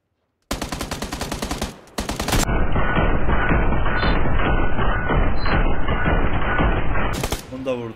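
Rapid sustained AKM rifle fire from the battle royale game PUBG Lite: a dense, loud burst of rattling shots, a short pause, then a longer continuous spray of automatic fire before it cuts off.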